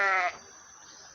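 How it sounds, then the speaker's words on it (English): A single short sheep bleat, loud and close, ending abruptly and followed by quiet background. "Sheep."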